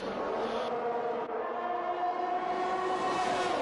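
A train rolls past in a racing video game at the Austrian circuit, a steady loud rumble with tonal hum that holds for several seconds, swelling slightly toward the end.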